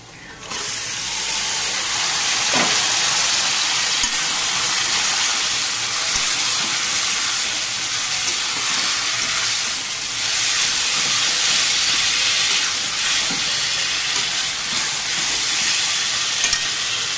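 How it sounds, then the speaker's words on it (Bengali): Chicken frying uncovered in a pan with onion, garlic and ginger for chili chicken, a steady loud sizzling hiss running throughout with a few faint clinks and stirring scrapes. "চিকেনটা একটু ভাজা ভাজা হোক, পেঁয়াজ,"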